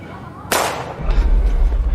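A single sharp gunshot in a film scene, loud and sudden, followed by a low rumbling tail.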